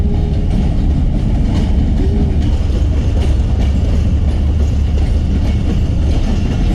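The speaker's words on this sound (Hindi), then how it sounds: "दोनों थाल निकल रही है और महर आ रही है।" The Mehr Express rolls into a station in Pakistan, a loud, steady rail rumble with faint wheel clatter and a brief squeal, continuous throughout.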